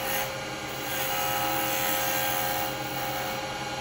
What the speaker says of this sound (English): I'm going to put a little tenon on this end.